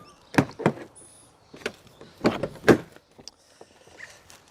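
A car door on a Ford AU Falcon with a broken lock actuator, heard as several sharp thunks and clunks in two clusters, close and fairly loud, with quieter handling noises between them.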